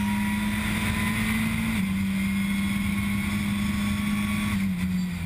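Lamera Cup race car engine droning loudly at the Le Castellet circuit, a steady in-car tone that holds, dips slightly, then slowly falls, under wind noise with no talk.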